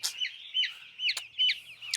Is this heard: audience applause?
no